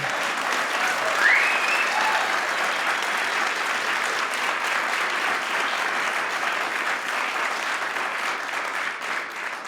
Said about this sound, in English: Please get a round of applause for the folks here at the station for hosting.